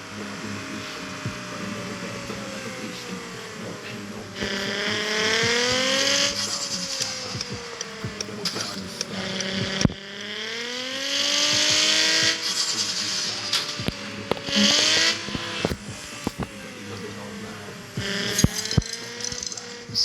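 Nissan R34 GTR in the CPM2 racing game, on a rally test: a loud engine revs and rises through the gears with flat-foot shifts, pitch sweeping up and dropping at each change, with tire noise and brief rattles.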